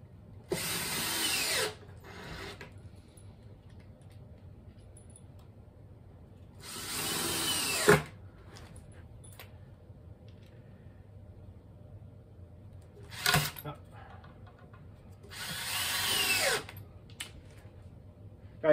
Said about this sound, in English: and simply drill them into position